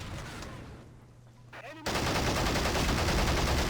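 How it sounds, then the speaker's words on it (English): Tank gunfire is exchanged in the game Men of War: Assault Squad 2, with a quieter stretch and faint voice breaking into a sudden, loud, sustained burst of firing. "He takes a few shots at me before I return fire."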